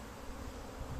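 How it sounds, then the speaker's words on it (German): Honey bees fly in a steady, dense buzzing drone around a double colony hive, continuous and fairly close with no clear breaks. "Man sieht, das Wetter lässt ab und zu, lässt die Bienen fliegen."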